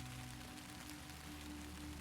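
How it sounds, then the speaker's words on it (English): Steady rain falls on a roof at night, a soft continuous hiss with faint low hum beneath, even and unbroken throughout, with no voices. "The rain has picked up again."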